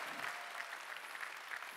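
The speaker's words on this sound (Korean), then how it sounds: "박수로 하나님께 영광 돌립니다" A church congregation at Sunday worship breaks into dense, continuous applause, a steady wash of many hands clapping at moderate volume with no pauses.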